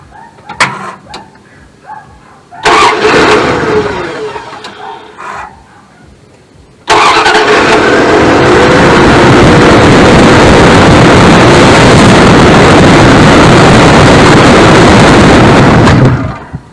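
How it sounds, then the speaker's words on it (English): A small engine with a leak cranks and sputters, then gives a sharp loud backfire through the carburetor before roaring into a long, steady, close-up run that lasts most of the stretch. "And it backfired out the carburetor again."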